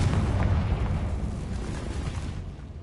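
A fiery Confringo spell blast in Hogwarts Legacy erupts as a single loud, deep boom that rolls and slowly decays over about three seconds, with no voices.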